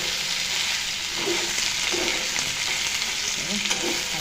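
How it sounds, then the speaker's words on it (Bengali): Onions and green chillies frying in a pan for an aloo-piyaj bhaja, a steady close sizzle with faint stirring scrapes throughout, no talking. "পেঁয়াজ আর কাঁচা লঙ্কা ছেড়ে দিলাম।"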